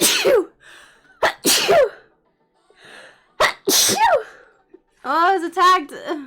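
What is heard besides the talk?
sneeze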